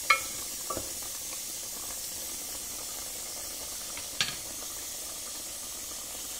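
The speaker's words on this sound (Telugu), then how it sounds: "మళ్ళీ ఒక 2 మినిట్స్ ఆయిల్ ఫ్లోట్ అయ్యే వరకు మనం ఇలా ఉంచుకోవాలన్నమాట టమాటాలని" Tomatoes sizzling in oil for tomato pickle, a faint, steady frying hiss throughout, broken by a couple of brief stirring clicks near the start and middle.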